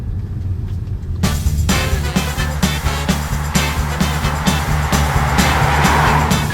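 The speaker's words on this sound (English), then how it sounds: "So this is my fun, fast, hot rod Bentley, which came with the W12 engine right out of the factory." A 2005 Bentley with its factory W12 engine fires up about a second in and settles into a loud, steady, close-up rumble, with no voices over it.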